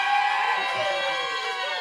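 A live audience at The Grey Eagle cheers and whoops for Travis, a sustained wash of crowd noise with shouts rising above it, steady and fairly loud throughout.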